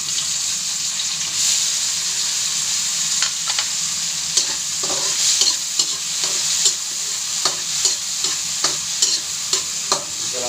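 Tomatoes being stirred and sautéed in a pan for ginisang misua, with steady sizzling and a series of sharp scraping stirs and utensil clinks, close and clear with no voices.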